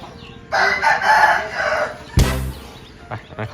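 A rooster lets out one loud, close crow, followed by a sharp burst of squawking and a few short clucks from chickens.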